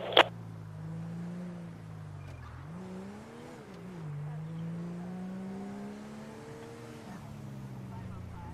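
Cars race in GTA V, with engines droning and revving in long rising and falling sweeps, steady and fairly close, while a police radio dispatcher's voice talks over them.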